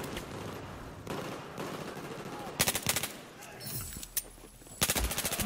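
Beretta 93R pistol gunfire in a video game: rapid bursts of sharp shots in clusters over a busy, loud game soundscape, with a voice talking at times.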